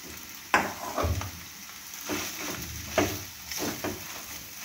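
Boiled potatoes stirred into a hot frying pan with chicken drumsticks, giving a steady low sizzle broken by a few scraping knocks of the spatula, close and moderately loud, with no talking.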